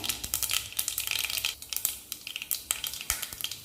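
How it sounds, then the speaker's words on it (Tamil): Dense crackling and popping of fenugreek and mustard seeds frying in hot oil, a busy sizzle with sharp bursts throughout, close up and without talk. "வெந்தயம் பொரிஞ்சிருச்சு."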